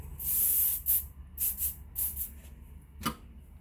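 Several short hissing bursts of spray from a hairspray can, one long spray then quicker puffs, close and fairly quiet, with a faint click near the end.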